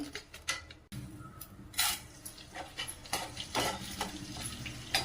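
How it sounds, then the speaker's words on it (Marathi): Edible gum (dink) frying in hot ghee, a soft, quiet sizzle broken by scattered clinks and scrapes of a stirring utensil against the pan. "अशा पद्धतीने आता आपण हा डिंक तळून घेणार आहोत."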